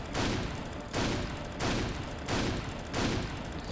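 Rapid bursts of gunfire from the first-person shooter Painkiller Overdose, with four loud, evenly spaced volleys in steady rhythm, close and dense, with no talk over them.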